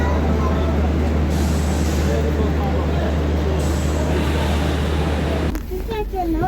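The Sealdah to Ajmer train stands at a station, a loud, steady low rumble with hiss that drops away near the end, while people talk nearby.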